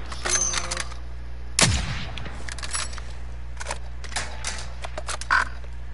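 Gunfire in a PS4 shooter game, with one sharp loud shot about a second and a half in and scattered fainter cracks and clicks around it over a steady low hum.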